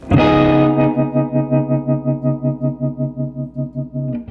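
A sustained guitar chord rings out, its volume pulsing steadily up and down in a quick, regular tremolo that continues until the chord fades.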